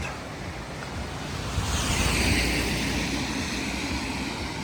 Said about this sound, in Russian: А река все течет и течет.